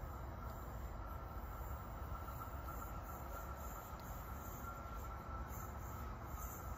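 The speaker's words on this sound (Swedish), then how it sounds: "Det är mitt tåg tror jag." A train rumbles steadily into a station, a continuous low roar of rolling wagons with faint high wheel squeal overhead, no voices.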